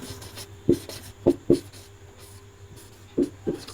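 Pen strokes on paper while writing out an answer in a Sanskrit lesson: a handful of short, scratchy scrapes in an uneven rhythm, close and fairly quiet against a faint room hum, with no talking.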